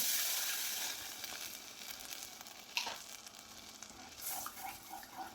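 Hot pan sizzles and hisses steadily as a cup of water is poured onto heated semolina for payasam, with a brief sharp burst partway through and faint stirring scrapes.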